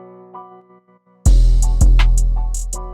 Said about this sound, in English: it gave like this wobble effect before the beat dropped